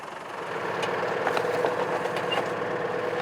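A 2003 Fendt GT 380 Turbo tool carrier tractor working a vegetable field, its engine a steady, moderately loud mid-pitched drone with a faint rhythmic knock throughout.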